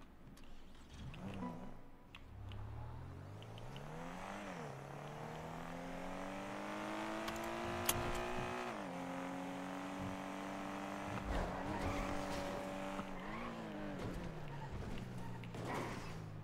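Nissan Skyline R34 engine in a racing video game, revving steadily with rising and falling pitch over about sixteen seconds, loud and continuous with brief shifts; tire skids are not clearly distinct.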